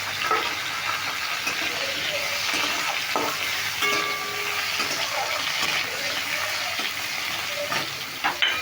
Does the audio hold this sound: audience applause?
no